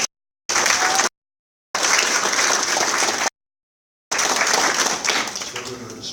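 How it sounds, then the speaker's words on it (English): A congregation at a church service applauds in three bursts of dense, steady clapping separated by silent gaps, the last burst fading out. "let's give Messiah a hand clap"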